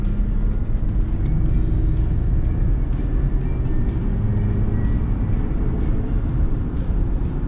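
A 2007 Volkswagen Touareg 3.0 TDI diesel engine drones low and steady while accelerating, with heavy rumbling road noise, as the SUV pulls along at a constant roar.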